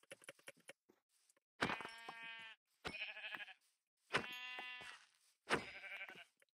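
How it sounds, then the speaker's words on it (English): Sheep in the video game RogueCraft bleat four times in short, loud, separate calls, each with a nasal, wavering quality. There are brief quiet gaps between the calls and a few light clicks at the start. "so here's some sheep."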